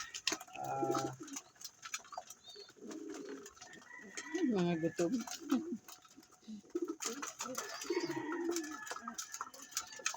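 Racing pigeons coo repeatedly close by, soft throaty calls mixed with people talking nearby.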